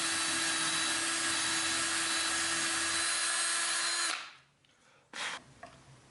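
A power drill bores holes in a wooden tool bag stand for hooks, running steadily for about four seconds before stopping, followed by a brief second burst of drilling and faint handling noise.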